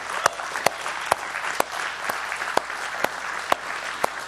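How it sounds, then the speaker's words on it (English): A church congregation applauds God during a sermon, with dense steady clapping and a few sharp, louder claps standing out at roughly half-second intervals. "I think we need to just applaud God for that, don't you?"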